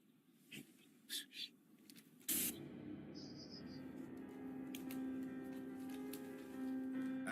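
Bear spray discharged at a black bear makes a sudden loud continuous hiss that carries on for several seconds, following a few faint breathy sounds and soft noises beforehand.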